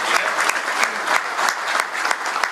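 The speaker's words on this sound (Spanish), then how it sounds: "vamos a hacer un aplauso para el Tano y para Mario." Loud, dense audience applause fills the room continuously, many hands clapping together at an even level with a few sharper claps standing out.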